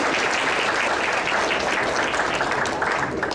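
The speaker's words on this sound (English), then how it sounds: "Let's give a round of applause for Kantilal Shah." Sustained audience applause honoring a senior volunteer at a community volunteer recognition ceremony, steady dense clapping throughout with no voices over it.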